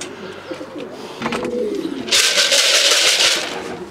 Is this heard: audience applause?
no